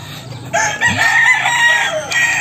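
A four-month-old Kanawayon hatch rooster crows once, loud and close, a long drawn-out call that fills most of the moment over faint background noise.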